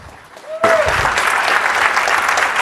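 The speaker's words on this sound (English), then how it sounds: "Please, a big warm applause for Andrei Alexandrescu." Conference audience bursting into applause after a brief quiet moment, a dense steady clapping that fills the hall and continues evenly to the end.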